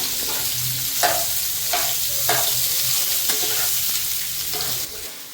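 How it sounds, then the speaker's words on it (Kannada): Sausage frying in a little oil gives a continuous close sizzle, with a soft stir or scrape roughly every second. The hiss drops off near the end. "ಸ್ವಲ್ಪ ಎಣ್ಣೆಯಲ್ಲಿ ಫ್ರೈ ಮಾಡ್ಕೊತಿದ್ದೇವೆ"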